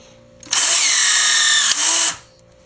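A rivet tool drives an ultimate rivet through a stack of washers, giving one loud, steady, high-pitched whir of about a second and a half that stops abruptly, with no talk.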